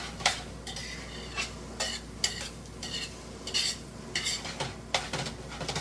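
Creamed corn stirred and cooked in a pan, with a spoon scraping the pan in repeated uneven strokes over a low sizzle, close and fairly loud.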